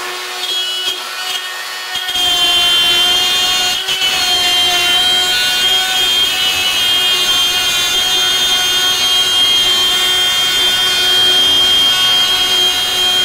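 A router fitted with a quarter-inch bit on a pivoting circle jig cuts a 4-inch hole in wood. After a short quiet start it spins up into a loud, steady high-pitched whine, held for the rest of the cut.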